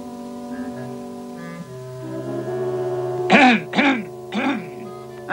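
A man's harsh coughing in a scene from a California police drama: three loud, raspy coughs in quick succession, close up, over a steady musical tone, after a short stretch of talk-like sound.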